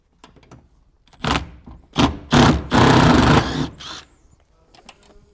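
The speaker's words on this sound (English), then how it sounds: "crack the bolt here, either with a socket or with a spanner" A socket wrench breaks loose an interior bolt in a 79 Series Landcruiser, a series of close, loud grinding and ratcheting bursts with short pauses, ending in quieter rattles.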